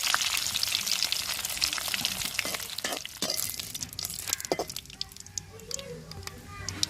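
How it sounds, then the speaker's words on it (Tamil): Mustard seeds, urad dal and curry leaves crackle and spit in hot oil for green pea gravy, busy popping sizzle under faint talk. "கடுகு உளுந்து போட்டுக்கிறோம் கருவேப்பிலை போட்டுக்கிறோம் வத்தல் சேர்த்துக்கணும்"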